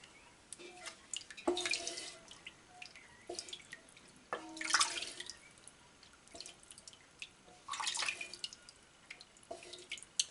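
Whey drips and trickles from a freshly pressed Gouda-style sheep's milk cheese, heard as faint, irregular splashes and dribbles close by, with no talking.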